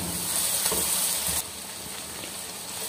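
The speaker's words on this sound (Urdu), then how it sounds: "تو اس کے بعد اس میں لہسن کا پیسٹ ہے، ادرک کا، دونوں ڈال دیں گے۔" Garlic and ginger paste sizzles loudly in hot oil for a tarka in a village kitchen, a dense continuous hiss that drops slightly in level partway through, with no talk.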